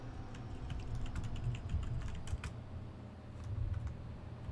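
Steady typing on a computer keyboard, a quick run of soft irregular key clicks close by over a low background hum, with no speech.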